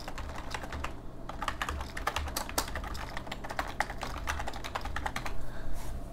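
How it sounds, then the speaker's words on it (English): Typing on a computer keyboard while entering account login details, a steady run of close, crisp key clicks with no talking. "let's type our account details"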